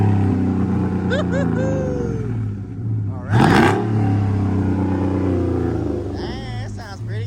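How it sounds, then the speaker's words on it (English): A 392 HEMI work truck engine idles with a steady low rumble, then gives one sharp rev that swells and falls back near the middle, while people talk over it before and after. "Rev it one time, brother"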